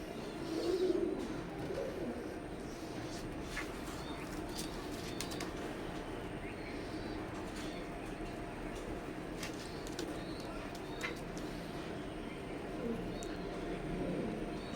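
Imported teddy pigeons coo intermittently at low volume across a long stretch, with a few faint chirps over a soft, continuous background hum.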